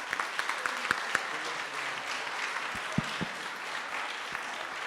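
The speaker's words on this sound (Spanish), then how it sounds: "Un aplauso, es la chef Cintia Martínez Becerril" An audience at a talk applauds a chef, with steady moderate clapping filling the room and a few sharper individual claps standing out near the start and middle.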